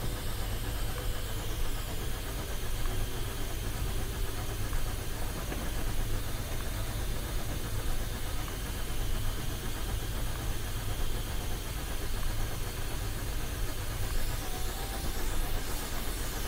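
Steam locomotive engine running in a train simulator video game, a steady dense hiss and rumble of chuffing machinery that holds continuously at an even level throughout, with no talk over it.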